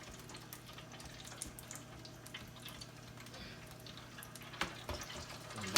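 Peach hand pies dropped three at a time into a deep fryer, oil bubbling and sizzling steadily with soft crackles and a few louder pops, no talking.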